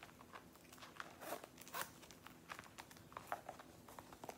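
Zipper on the top of a Kate Spade Saffiano leather wristlet in cornflower, drawn in several short, quiet rasping pulls close up, with small handling clicks between them.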